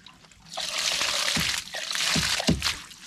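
Water running out of an agricultural sprayer tank used to treat olive trees, a steady close splashing and trickling flow with a few louder gushes near the end.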